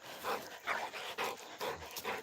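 Wally the dog pants and huffs in quick rhythmic bursts near a tractor being started, a close, fairly quiet series of breathy puffs repeating about every half second.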